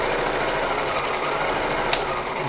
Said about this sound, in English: Let me put it up to full speed.